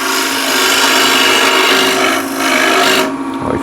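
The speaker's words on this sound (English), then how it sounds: "I'll use a square inch scraper. Going straight in." A square scraper hollows the bowl of a wooden ladle on a lathe, giving a loud, continuous rasping hiss close by that eases off near the end.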